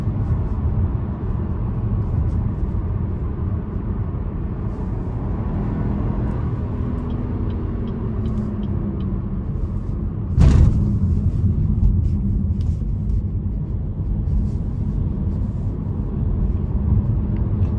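Engine of a 2021 Chevrolet Trailblazer RS AWD held high in the rev range in sport mode, a steady low droning rumble from inside the cabin with one brief thump partway through.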